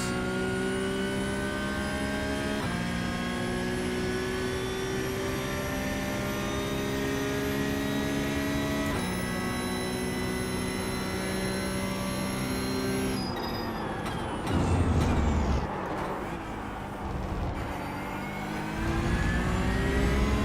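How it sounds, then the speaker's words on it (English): A car on a shakedown drive, its engine droning steadily and dropping pitch through downshifts before heavy braking, with rumbling road noise toward the end. "That's pretty good braking right there, man."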